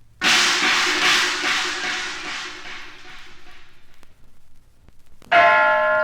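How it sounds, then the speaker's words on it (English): A large Bangkok temple bell rings out loudly and slowly fades, then another temple bell strikes sharply near the end, bright and resonant. "The Temple Bells of Bangkok"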